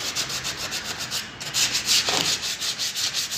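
Sandpaper rubs back and forth over CNC-cut MDF wood in quick, regular strokes, close and fairly loud, with a short pause partway through.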